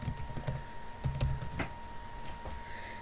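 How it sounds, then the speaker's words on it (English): A name typed on a computer keyboard, a handful of soft, close key clicks in an uneven rhythm over a low steady hum, with no talking. "I'm going to just type in my name"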